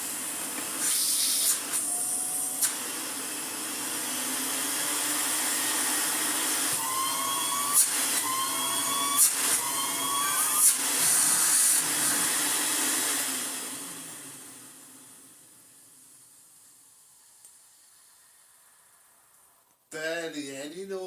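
An Electrolux Dolphin Silver Electronic 1000 Z2225 vacuum cleaner, refurbished, runs with a steady whirring hiss and then winds down smoothly to near silence, with a few brief clicks and a voice speaking at the very end.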